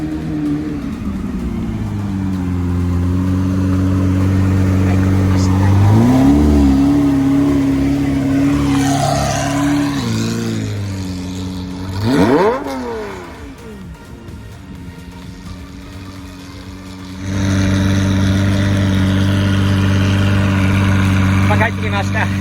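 A Lamborghini Murciélago engine idles loudly nearby, revs sharply, then drops in level as the car moves off before rising again in a sustained drone, with talk heard at moments.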